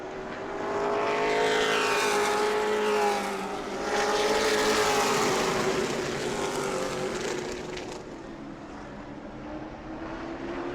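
Race cars in the Hoosier Series at New Smyrna Speedway roar past, a loud sustained engine drone with rising and falling pitch as cars chase each other nose to tail, easing slightly toward the end.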